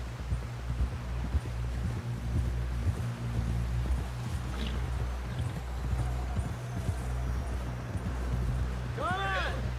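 Horse hooves clip-clopping steadily in Red Dead Redemption 2, a rhythmic trot heard close over a low ambient bed, with a horse whinny near the end and voices talking.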